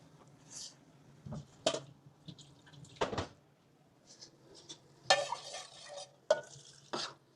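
Beef curry with onion masala being stirred in a pot, a spoon scraping and clattering in irregular bursts over a faint sizzle, close and fairly quiet, no talking.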